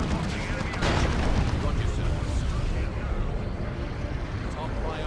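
A dropped bunker in Dawn of War 2 comes under immediate fire, a dense wash of battle noise with rumbling impacts and gunfire running continuously, with a commentator talking over it.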